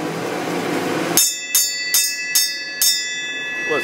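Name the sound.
bell ringing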